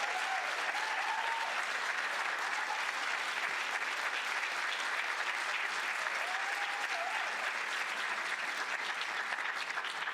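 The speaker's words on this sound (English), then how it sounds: "another round of applause" Steady, even applause from a conference audience at an African-American history and culture event, a continuous wash of many hands clapping, moderately distant and uninterrupted.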